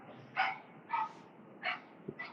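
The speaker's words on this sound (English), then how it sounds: "Whose dog is that? It's not mine. Somewhere in this apartment complex." A dog barking somewhere in an apartment complex, four separate muffled barks spaced about half a second apart, distant and fairly faint.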